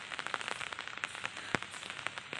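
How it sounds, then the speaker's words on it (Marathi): Heavy rain drumming on an open umbrella in Konkan, a dense stream of quick, close taps and pattering with occasional sharper hits, fairly quiet overall. "जोराचा पाऊस आला आहे"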